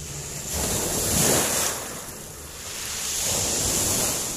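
Rough sea after Typhoon Vicky in 2020: waves surge and wash in two swells, mixed with heavy wind buffeting the microphone.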